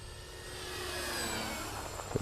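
A Durafly Spitfire 1.1 m RC model plane flies overhead, its faint, distant engine whine swelling slightly and holding steady before easing off.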